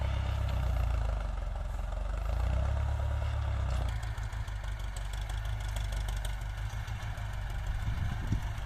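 A Ford 6640 tractor engine idles steadily and close by, a low rumbling chug with some mechanical clatter running throughout without pause.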